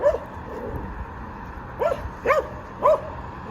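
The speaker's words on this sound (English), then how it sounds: "that dog's just going absolutely nuts" An agitated dog barks in a small town, sending out a few sharp, fairly loud barks in separate bursts at close to middle distance, with steady background noise and no talking.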